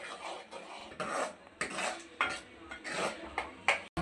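A metal spoon scrapes and clanks against a pan in repeated strokes stirring masala for mushroom gravy, close by and moderately quiet, with no one speaking.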